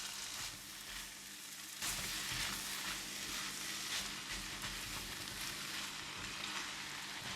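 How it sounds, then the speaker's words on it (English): Flat kway teow rice noodles with shrimp stir-fry in garlic oil, giving a continuous close sizzle and crackle. A louder burst comes as the noodles are tossed, with soft scraping from the stirring underneath. "Give it a mix until well combined and fragrant."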